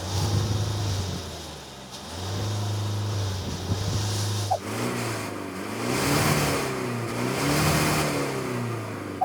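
A 2024 Mahindra Scorpio-N SUV engine and exhaust, a deep steady idle broken by several loud revs that rise and fall, heard close and alone.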